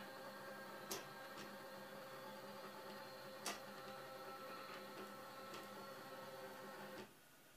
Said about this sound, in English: the printhead and cutting mechanism move to the limit switches